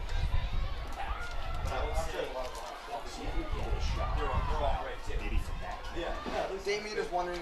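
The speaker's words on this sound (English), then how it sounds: "A great crowd here at Casagrande Field." Spectators at a girls' varsity lacrosse game between Darien and New Canaan at Casagrande Field make a busy, continuous crowd murmur, with overlapping voices and scattered footfalls and thumps from the play.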